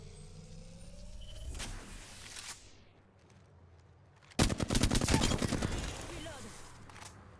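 Gunfire in the Apex Legends battle royale, a quiet stretch with a distant shot or two, then a dense, loud rapid-fire volley lasting a few seconds, close by, with game voice lines briefly in the mix.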